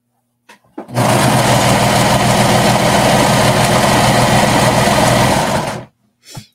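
A serger stitches knit fabric for a skater dress in one continuous loud mechanical whir lasting about five seconds, starting and stopping abruptly, close to the microphone, with no talking.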